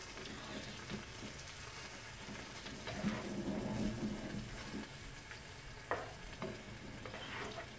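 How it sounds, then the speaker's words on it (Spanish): Sardines simmer in a pot while being stirred gently, giving a soft, steady bubbling and scraping with a few louder clinks, quiet throughout. "Removemos con cuidadito para que no se desbarate la sardina"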